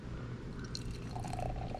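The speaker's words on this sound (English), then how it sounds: "Let's pour this rascal and see" Light Circus IPA poured from a can into a glass, a short, faint liquid gurgle and fizz over low background hum.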